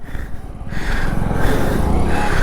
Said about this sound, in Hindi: पहला गियर, बाइक देखो आराम से सीधा चलने लग गई